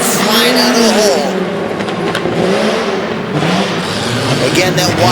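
A tough truck's engine revs hard at the start of a race, a loud, rough mid-pitched roar that climbs and surges in waves as the truck launches, with an announcer talking over it.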